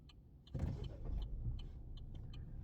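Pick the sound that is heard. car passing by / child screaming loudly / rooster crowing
car passing by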